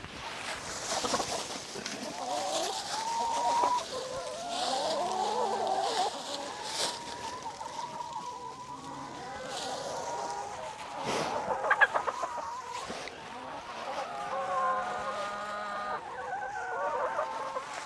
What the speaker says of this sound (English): And we will go take this to our chickens.